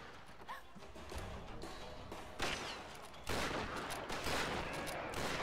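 Gunfire in the 2013 Tomb Raider reboot, with shotgun blasts and other weapons firing in a combat scene, heavy booming reports mixed with rapid crackling shots, fairly quiet overall.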